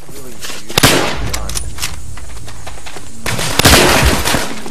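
A strange gun in a video game fires in sharp bursts, with loud cracks clustered near the start and again toward the end over a steady background of game noise.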